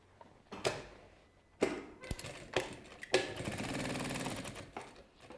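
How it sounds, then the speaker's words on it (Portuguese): A sewing machine stitches a backpack pocket in several short, loud bursts of rapid mechanical clatter separated by pauses, ending in a longer continuous run of stitching, close up with no talking. "E aí é só costurar, lateral, fundo e lateral"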